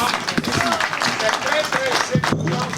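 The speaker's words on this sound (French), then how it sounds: "Ça mérite un applaudissement." Audience clapping at a town meeting on fighting terrorism, a dense steady round of applause throughout, with voices mixed in underneath.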